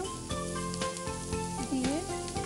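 Spring onion and vegetables tossed and frying in a pan, a steady sizzle with clattering stir and toss noises, along with music and a brief bend of tone, no clear talk.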